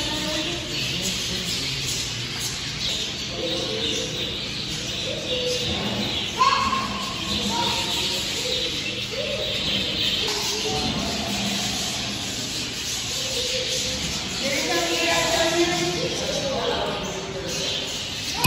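Several zoo birds call loudly and repeatedly in overlapping squawks and chirps, with people talking nearby and a steady background hiss.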